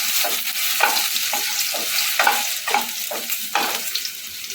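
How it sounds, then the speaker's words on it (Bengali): Potato pieces fry lightly in oil for spinach pulao, a bright sizzle punctuated by a regular series of spatula strokes scraping and turning them in the pan, close and clear with no talking. "আলুটাকে একটুখানি মিনিট দিয়ে সময় ধরে একটুখানি লাল করে ভেজে নেব"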